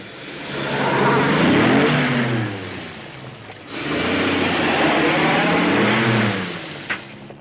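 A 1940s Manhattan truck engine from old stock film footage drones loud and steady through two long passes with a short dip between, ending in a brief knock.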